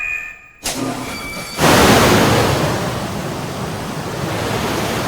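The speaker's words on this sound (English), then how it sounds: "It's a bit of a drop, so expect a splash." A box is dropped from a helicopter into the water, a sudden loud burst of rushing, splashing noise after a short quieter stretch, settling into a sustained roar of churning water and wind.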